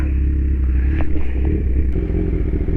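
A big bike motorcycle idles with a deep, steady engine rumble while being parked, close and loud, with brief clatters and scrapes as it is moved into place.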